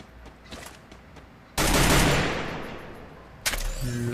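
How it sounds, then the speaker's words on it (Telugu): Gunfire in a battle royale video game, a heavy sustained blast of shots that fades after a couple of seconds, followed by another loud burst. "ఇప్పుడే మనల్ని ఎవడో కాల్చాడు."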